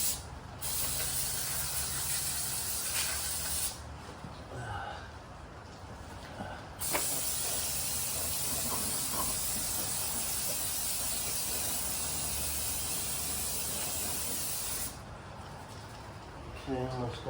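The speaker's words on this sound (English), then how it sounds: "So I'm just going to take some brake parts cleaner," Brake parts cleaner sprayed from an aerosol can onto a Honda lawn mower during servicing, a long steady hiss that runs almost continuously with brief pauses, fairly faint.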